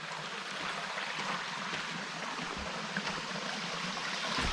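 A creek flows beside the Pine Mountain Trail, a steady, close rushing and gurgling of water that continues without a break.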